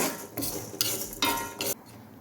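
Urad dal dry-roasting in a pan makes a few separate bursts of dry rattling and scraping as it is stirred, each lasting a fraction of a second, with quiet gaps between them, close by.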